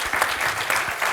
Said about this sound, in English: a good round of applause for our speakers today